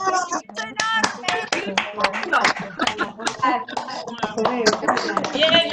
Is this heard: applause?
yes